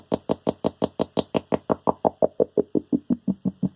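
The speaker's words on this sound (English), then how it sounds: "that's with a filter on, which attenuates the highs, so you can just make funny little sounds" A kit-built metronome feeds a low-pass filter, giving a steady run of about twenty evenly spaced knock-like clicks; the filtered ticks start bright, then grow duller and more muffled as the highs are cut.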